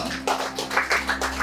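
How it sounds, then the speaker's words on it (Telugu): Meeting audience claps to welcome chairman Koteswara Rao at a real estate company's weekly gathering, a brief burst of steady, close applause with rhythmic hand claps over a low electrical hum. "ఇలాంటి సభాధ్యక్షుడు కోటేశ్వరరావు గారికి అందరూ క్లాప్స్ కొడుతూ ఆహ్వానిద్దాం."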